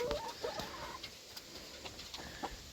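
A chicken clucks in short, faint bursts, a few quiet calls scattered over steady background noise on a small farm, with no talk during them.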